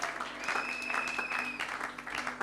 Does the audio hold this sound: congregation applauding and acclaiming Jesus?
yes